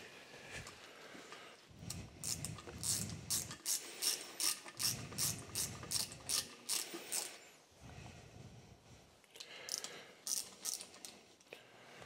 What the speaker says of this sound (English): I just get my ratchet.